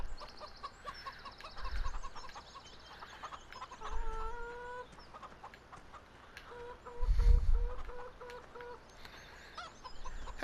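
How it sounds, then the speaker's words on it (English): Chickens cluck in short, repeated bursts in a Farming Simulator game on PS4, with soft footsteps and low thumps between the calls and no talk. "Hey, hello, chickens."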